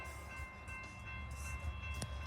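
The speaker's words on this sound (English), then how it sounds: "We've got a train here in Stanwood." A BNSF tanker train rolls past in Stanwood, Washington, a steady low rumble of railcars with a sustained tonal ring above it and a brief sharp accent near the end, no speech.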